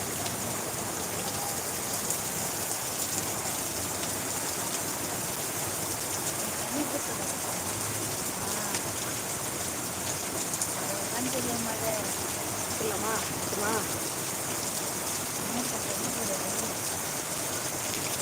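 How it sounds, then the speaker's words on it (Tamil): Heavy rain pours down steadily in Tiruvallur, India, a loud continuous hiss of drops pattering on surfaces with no break. "திருவள்ளூரில் சரியான மழை எவ்வளோ மழை வருதுன்னு நீங்களே பாருங்கள்"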